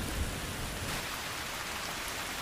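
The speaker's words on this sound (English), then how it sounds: "How beautiful is the rain after the dust and heat" Steady rain falling on a street and roofs after dust and heat, an even, dense hiss of drops that stays constant throughout, with no voices.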